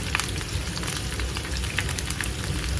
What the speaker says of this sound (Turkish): zeytinyağını tavaya alıp biraz ısındıktan sonra biberlerimizi ekleyelim ve altını kısmadan soteleyelim